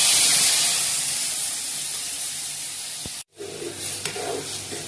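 Spices soaked in water hit hot oil for gvar ki fali sabji, giving a loud, steady sizzling hiss that fades gradually, breaks for an instant, then returns with softer crackle and faint clinks.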